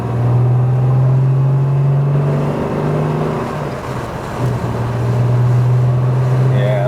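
A Jaguar S-Type with a 3.4 litre twin cam engine in show condition roars steadily and loudly nearby, holding a sustained low drone that dips briefly before rising again.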